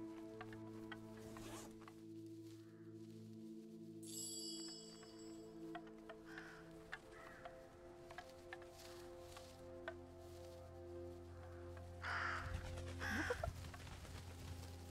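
Birds cluck and squawk in the Röki video game, with scattered calls and flutters over a steady tonal musical backdrop and a busier burst near the end.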